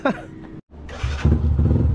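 A motorcycle named Mia, fitted with extra lights, idles after its engine has warmed up, a steady low rumble that starts about halfway through and grows fuller. A voice is heard before it begins.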